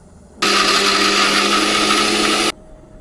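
A kitchen mixer grinder blends onions, three large tomatoes, cumin and green chillies into a paste for Andhra-style fish curry, starting abruptly in one loud, steady high-pitched whir that runs about two seconds and then stops dead, with no voices.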